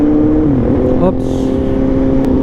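A car on a road near San Ildefonso, Bulacan, drones behind a moving motorcycle as its engine note shifts and rises, loud and steady under wind, with a voice talking briefly.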